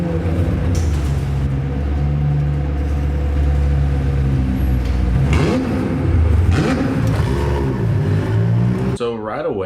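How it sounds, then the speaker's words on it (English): A McLaren 765LT with its 4.0-liter twin-turbo V8 drones and revs steadily, its sustained engine tone rising and falling in pitch near the end, loud and close with no talking. "the 765 LT sounds exactly the same as the 720S"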